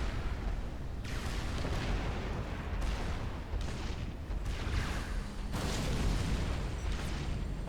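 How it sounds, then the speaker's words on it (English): Cannon blasts from a GC unit in Supreme Commander: Forged Alliance Forever, sounding as several heavy booming bursts layered over dense, continuous battle rumble. "A couple of quick blasts with the face cannon from the GC though."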